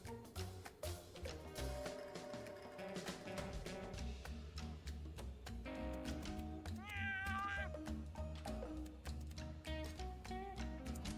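A skeleton cat meows in the video game Mewgenics, its rising and falling meow calls sounding over busy game music and effects with a steady low pulse.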